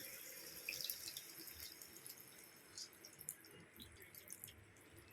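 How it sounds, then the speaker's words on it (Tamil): A faint, steady trickle of tamarind water being poured into a cooking pan for a spicy curry, with small splashes and drips, quiet and close. "கரைச்சி வச்ச புளி தண்ணி சேர்த்துக்கோங்க"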